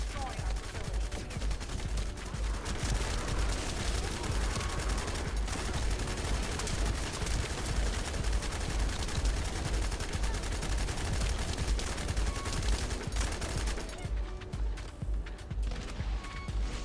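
Sustained heavy automatic gunfire in the shooter game The First Descendant, dense overlapping bursts filling the scene nearly throughout, easing slightly near the end.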